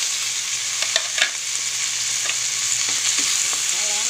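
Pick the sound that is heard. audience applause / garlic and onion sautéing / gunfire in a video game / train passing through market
garlic and onion sautéing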